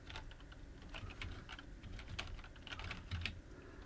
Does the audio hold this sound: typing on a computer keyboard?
yes